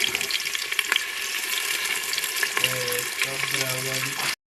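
Chopped onion sautés in oil in a pan for pavta bhat, making a steady, close hissing sizzle with a few light clinks and a low hum underneath before the sound cuts off.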